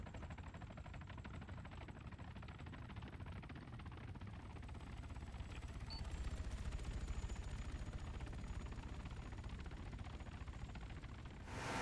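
Dense, continuous helicopter rotor roar mixed with rapid bursts of gunfire from attack helicopters in the military game Arma 3, loud and sustained throughout with no talking.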